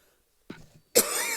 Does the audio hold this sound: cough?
yes